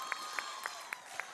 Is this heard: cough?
no